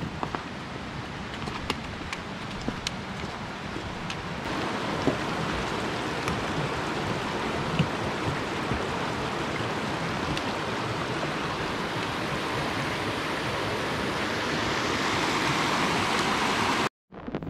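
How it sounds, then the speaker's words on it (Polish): Roztoka mountain stream in a Tatra forest valley rushing steadily over rocks, a loud, continuous broadband wash of water that stays even throughout and breaks off abruptly just before the end. "Oprócz pięknego lasu możemy także podziwiać potok Roztoka."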